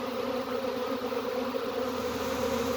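A honey bee swarm at the hive, bees massed on the hive face, producing a steady, close, loud droning hum with layered buzzing tones that holds evenly throughout with no voices.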